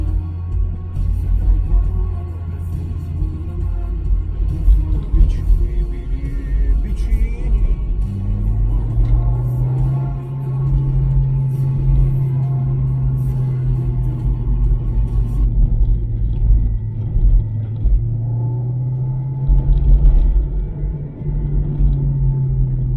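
A Honda CR-Z engine with a Spoon N1 exhaust rumbles low and steady from inside the car, rising into a deeper drone midway, with faint voices now and then.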